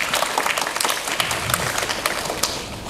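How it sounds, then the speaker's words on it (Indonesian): Audience applause at a campus visit event for students, a steady wash of many hands clapping throughout, fairly loud and continuous with no talking. "boleh tepuk tangan dulu dong buat kita semua ya"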